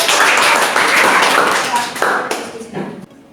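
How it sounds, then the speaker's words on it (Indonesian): An audience claps for presenting group 3 at a teacher performance-test session, a dense burst of applause filling the room for about three seconds before thinning into a few scattered claps and fading out. "berikan aplaus untuk"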